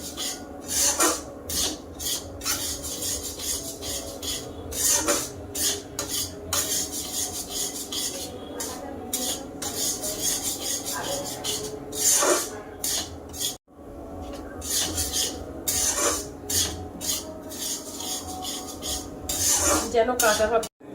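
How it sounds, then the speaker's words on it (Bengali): A utensil stirs and scrapes semolina roasting in ghee in a wok, making repeated close metallic scrapes and rasping rubs in an irregular rhythm, with short pauses between strokes. "এই সুজিটা ভাজা করে নেব হালকা, যেন কাঁচা ভাবটা চলে যায়।"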